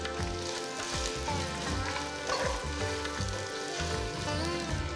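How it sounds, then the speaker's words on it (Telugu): Thinly sliced onion frying in hot oil in a home kitchen, a steady, close, dense sizzle and crackle running unbroken throughout. "నెక్స్ట్ నేను దీంట్లో ఒక పెద్ద ఉల్లిపాయ బాగా సన్నగా తరిగి వేస్తున్నాను"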